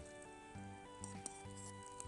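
Green chillies sizzling in hot ghee with cumin seeds in a saucepan, a faint, steady crackle and hiss with small pops over a low background hum.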